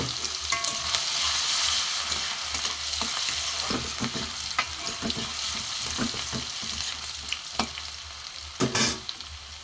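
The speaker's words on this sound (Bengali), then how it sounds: "রসুনটা ভাজা ভাজা হলে" Crushed garlic fries with whole cumin and a bay leaf in hot oil, giving a steady close sizzle with intermittent clinks and scrapes of a stirring utensil, no talking.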